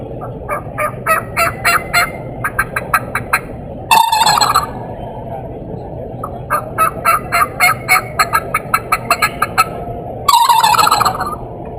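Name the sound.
turkey gobble imitated with mouth call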